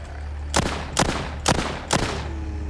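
Four sharp gunshots ring out in the polygonal zombie video game The Walking Zombie 2, evenly spaced about half a second apart, each a crisp crack with a short tail over a low steady background hum.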